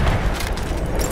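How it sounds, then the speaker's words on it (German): A grenade blows up in Battlefield 1 gameplay, giving a dense, loud, rumbling burst with broadband crackle that fills the short clip and does not drop away. "Vorsicht, Jungs, ich werfe eine Granate!"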